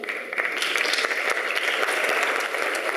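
An audience claps steadily and warmly as a guest is invited onto the stage at the opening night of the 26th Festival MIX Milano in 2012, a continuous applause with no talking over it.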